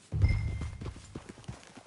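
Horse hooves clop rapidly in Red Dead Redemption 2, a short burst of close galloping steps after a heavy low thump at the start.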